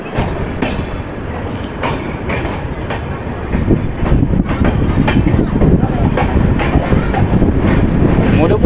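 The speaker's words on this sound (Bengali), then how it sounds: "রায়পুর জাংশন স্টেশন থেকে আমাদের ট্রেনটি ছেড়ে দিল" An Indian passenger train on the Kolkata to Deoghar route pulls out of Madhupur Junction station. Its steady rumble and wheel clatter grow louder after a few seconds, with faint voices in the background.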